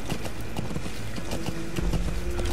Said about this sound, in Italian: possiamo usare il cavallo come nascondiglio mobile